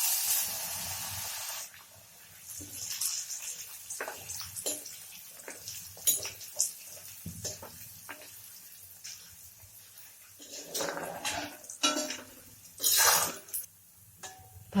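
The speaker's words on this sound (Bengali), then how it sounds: "এখন আমি চিড়েটা ভেজে নেব।" Flattened rice (chira) frying in oil, a steady hissing sizzle broken by scraping and stirring clatter, with a louder burst of crackle toward the end.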